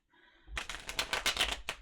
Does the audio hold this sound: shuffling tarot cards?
yes